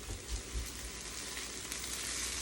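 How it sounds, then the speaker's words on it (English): Onions slowly caramelizing in a pan for liver and onions give off a soft, steady sizzle and crackle at low volume. No one talks over the faint frying hiss. "I'm just taking my time doing these onions. They're just slowly caramelizing."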